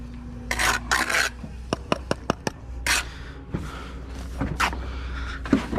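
A brick trowel scraping and working mortar on a bricklaying site outdoors, close rasping scrapes mixed with several sharp metallic taps in a quick series, then more scraping strokes, with no talk.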